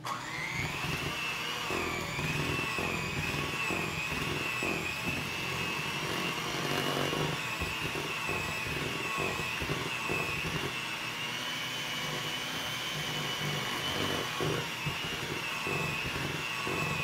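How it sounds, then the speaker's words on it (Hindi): An egg is beaten into banana muffin batter, with a loud, steady motor whir running unbroken throughout and no talking. "बहुत ज़्यादा बीट नहीं करना है, थोड़ा ही इसको बीट करना है कि बस ये अच्छी तरह से सब मिक्स हो जाए"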